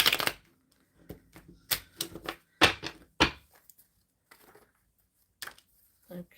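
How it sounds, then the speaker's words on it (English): Tarot cards being shuffled during a live card-pull reading, with a series of soft, close riffling and tapping bursts separated by quiet pauses, fairly faint. "I'm just starting to shuffle for the tarot read"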